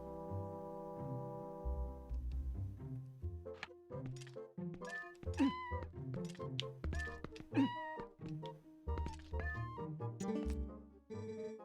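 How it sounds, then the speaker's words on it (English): Cats meowing repeatedly in Zelda: Twilight Princess, several short mews and calls at close range over a soft game music backdrop, with varied pitches and an irregular rhythm. "Cats, and more cats in here."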